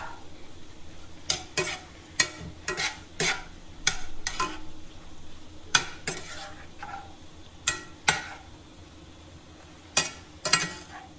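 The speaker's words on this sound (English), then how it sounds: "Just saute it and stir it all up together" Broccoli sautéing in a pan, a low continuous sizzle broken by about a dozen sharp spatula scrapes and clacks against the pan at irregular intervals, close by, with no voices.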